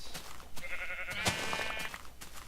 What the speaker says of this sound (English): Hello, sheep! Bah!